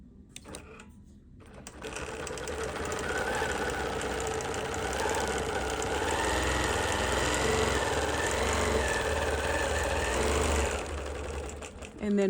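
A BERNINA Q24 longarm quilting machine starts up and runs steadily while stitching along a ruler, a fast mechanical whirring hum with rapid needle chatter that winds down near the end.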